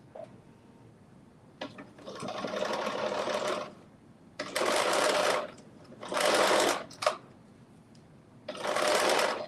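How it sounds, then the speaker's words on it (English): A sewing machine hems a knit crop top in four separate bursts of rapid stitching, each lasting one to two seconds with short pauses between them, close and clear. "I folded it under 5/8, but I'm stitching it at 3/8."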